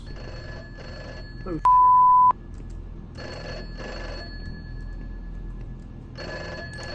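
A telephone rings in the horror video game Those Nights at Fredbear's Remake, in loud repeated bursts. A sustained electronic beep interrupts the ringing partway through, and a voice makes a brief exclamation.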